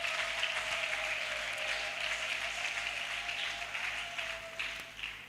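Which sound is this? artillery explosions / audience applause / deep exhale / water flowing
audience applause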